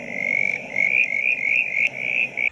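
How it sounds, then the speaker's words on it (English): A southern brown tree frog (Litoria ewingii) calls in a backyard in Manningham, a rapid, continuous pulsing trill repeated in close bursts, loud and near over a low background hum. "This is Latoria ewingi, a southern brown tree frog."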